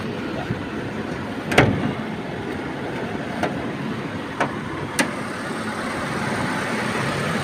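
A car engine idles shortly after a cold start, a steady low rumble running throughout with a few sharp clicks or knocks on top, close by and with no one talking.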